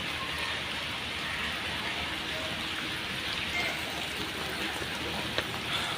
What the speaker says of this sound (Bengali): আস্তে আস্তে বৃষ্টি জোরে নামতে আসছে।